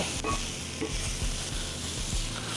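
Cherry tomatoes blister in a hot cast iron pan, giving a steady close sizzle with soft scraping and stirring taps from a utensil moving them around.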